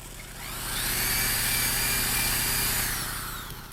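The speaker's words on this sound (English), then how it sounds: "I got that one drilled out" A power drill whines steadily, rising to a sustained grinding buzz as it bites into antler, then easing off near the end.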